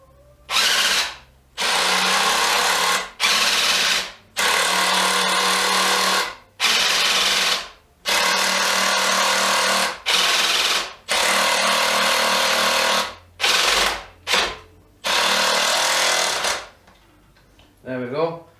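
An AEG BSS18 hydraulic impact driver drives screws into hardwood in a series of loud, close bursts of whirring and rapid hammering. Short pauses separate the bursts, and a shorter burst comes near the end.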